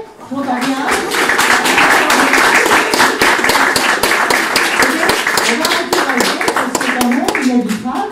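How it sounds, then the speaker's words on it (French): Sustained audience applause at a reading marathon, dense loud clapping from many hands filling the space continuously, with voices mixed into the crowd noise. "qu'il y ait un applaudissement énorme ici pour donner du courage à tous ces gens qui vont lire"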